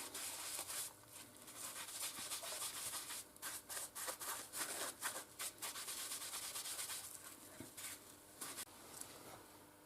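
Resiline being rubbed by hand into leather for an axe loop: a steady, faint, hissy rubbing that runs throughout and breaks into short repeated strokes partway through, with no voices.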